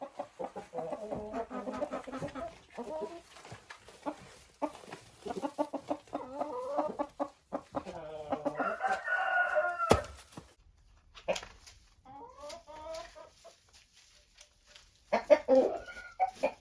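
Chickens and roosters cluck and crow near a greenhouse, a busy flock calling in bursts throughout, with louder crowing peaks and brief quieter gaps.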